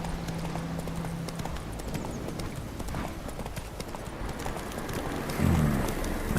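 Roach, the horse in The Witcher 3, gallops with steady, close clip-clop hoofbeats over a soft rain-like ambient bed, with a brief heavier thump near the end.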